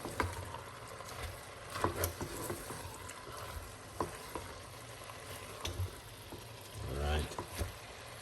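One medium-sized cabbage stir-frying in a pan for a Jamaican Christmas dinner, with steady sizzling and frying crackle, scraping stirs and clatter, and a brief voice speaking over it.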